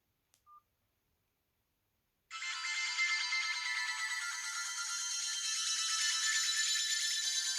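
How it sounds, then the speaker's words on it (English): A MOJO CHAT mobile phone plays its ringtone, a bright, buzzy electronic tone that starts abruptly after a brief faint beep and then holds steady and loud until the end. "and then we'll do the ringtones"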